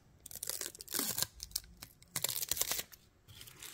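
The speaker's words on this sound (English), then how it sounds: "we're gonna peel off the protective sticker" A protective sticker peels off an Amp Research PowerStep XL side step on a 2023 Ford Bronco Wildtrak, giving several close, loud ripping tears in bursts with short pauses between them.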